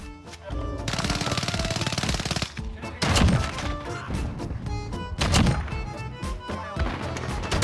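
A 725 shotgun firing stopping power rounds in the Modern Warfare video game. Two heavy blasts ring out over a dense, busy game soundtrack, with a faint voice underneath.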